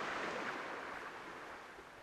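Ocean waves in the Bora Bora environment on Vision Pro, a soft steady wash of surf that fades slightly, with no voices over it.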